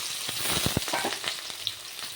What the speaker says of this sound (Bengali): তেলটা এখানে গরম হয়ে গেছে, এবার মেখে রাখা সয়াবিনগুলো আমি ঢেলে দেবো।